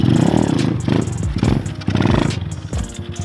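A 2020 Kawasaki KLX 110 pit bike with a Pro Circuit T6 exhaust and UNI air filter revs in uneven bursts, its engine note sagging and bogging between throttle blips, loud and close with no talk.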